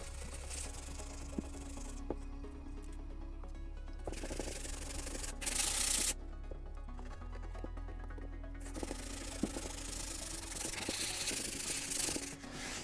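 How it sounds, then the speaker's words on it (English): A sanding stick rubs loose paper off a glued craft piece for a Boba Fett jet pack, giving close, steady scratchy strokes in repeated bursts with brief pauses between. "Just got my sanding stick here"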